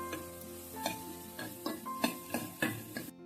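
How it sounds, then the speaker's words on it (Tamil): Turkey berries and brinjal being sautéed in a pan for a curry, with repeated scraping stir strokes every half second or so over a steady close sizzle, no voices. "சுண்டக்காவை நல்லாவே வதக்கிடுங்க"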